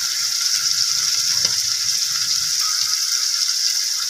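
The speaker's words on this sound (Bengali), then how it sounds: "দিয়ে এবার মশলাটা কষিয়ে নিচ্ছি মাছের সাথে, 1 মিনিট কষিয়ে নিব।" Turmeric and chili powder frying with fish in a pan give a steady bright sizzle throughout, close and even, with faint scraping and stirring knocks underneath and no talk.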